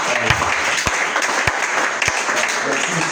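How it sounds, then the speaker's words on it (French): A church congregation claps and cheers for the Lord, steady loud applause filling the room with a few sharper thumps and voices mixed in throughout. "Est-ce que quelqu'un peut acclamer le Seigneur?"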